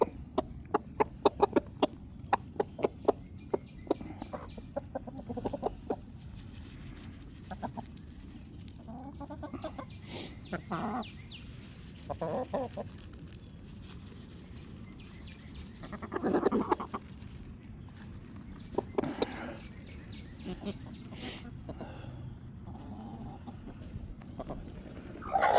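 Backyard chickens clucking and calling as they rush out of their coop, scattered bursts of clucks near and far over quiet outdoor ambience, with a few louder squawks.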